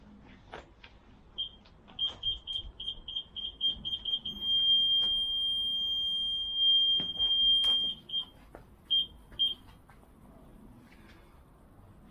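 A reverse parking sensor fitted to a Fiat Ducato-type van gives high electronic beeps that quicken into a fast train, merge into a continuous tone, then slow to spaced beeps again, with faint footsteps and handling noise.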